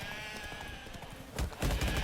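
Sheep bleat in The Witcher 3 while a horse rides through a flock. Short cries rise over a busy, steady game-sound bed, with louder bursts and hoof-like clatter in the final second.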